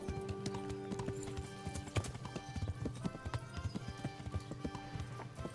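A horse galloping in the video game Kingdom Come: Deliverance, rapid rhythmic hoofbeats close by over a low droning game score, with no talk.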